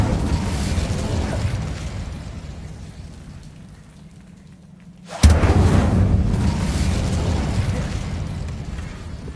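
The Incendio fire spell is cast in Hogwarts Legacy, with a sudden sharp burst that flares into a loud, sustained crackling roar after a quieter, dimmer stretch.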